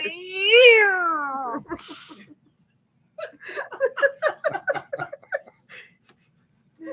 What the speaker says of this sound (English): That's how you herd a cat.